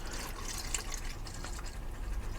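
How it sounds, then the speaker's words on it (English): Cleaning fluid is poured into a gun suppressor tube, a soft continuous trickle and splashing fill with faint drips, close and fairly quiet, with no talk. "We're going to start pouring this into the tube."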